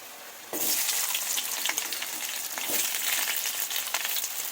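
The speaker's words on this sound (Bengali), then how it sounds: "ক্যাপসিকাম পেঁয়াজগুলো একটু আলাদা করে দিয়ে ফ্রাই করে নেবো" Capsicum and onion hit hot oil and burst into a loud, continuous sizzle that keeps crackling steadily, with occasional stirring scrapes.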